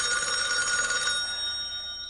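A telephone bell rings loudly with a bright metallic trill that fades over about two seconds, with no one talking over it.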